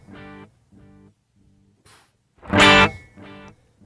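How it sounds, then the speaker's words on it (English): A strange tape echo effect with a regeneration loop repeats a tonal sound in several fading, distorted echoes before a louder noisy burst swells and another echo follows. "It's like a weird tape echo."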